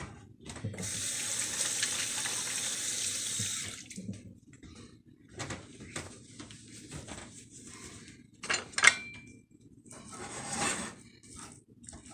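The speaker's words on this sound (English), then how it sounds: "Wash my hands real quick." Tap water runs steadily into a sink for several seconds while hands are washed, then stops; clinks and handling noises follow, with brief bursts of water later.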